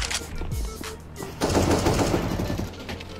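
Full-auto AK rifle fire in CS:GO, a brief shot near the start, then a loud sustained burst of rapid shots ringing out before trailing off.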